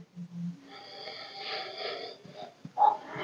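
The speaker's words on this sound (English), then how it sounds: "Let's give it a sniff test." Someone sniffs a lemon Coca-Cola drink up close: a drawn-out nasal inhale lasting about two seconds, followed by a couple of short, quieter breaths.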